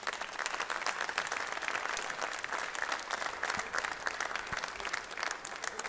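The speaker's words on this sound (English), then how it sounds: "So a round of applause for yourselves." Audience applause at a football tournament final, England vs Northern Ireland, a dense, steady wash of clapping from a crowd that holds at full strength throughout with no talk over it.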